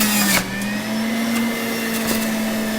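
A juicer motor whines at a steady, loud pitch as a celery stick is fed in, with short crunchy bursts as the stalk is ground and no talk.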